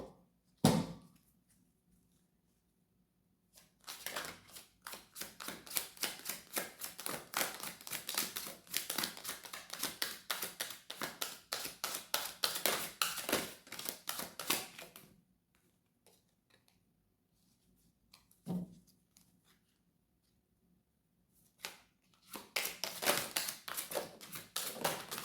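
Tarot cards handled and shuffled up close, with rapid dense riffling clatter in long bursts between quiet pauses and a few single soft knocks, with no talk.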